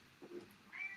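A pet cat meows in the background at home, two short, faint meows in quick succession with nobody speaking.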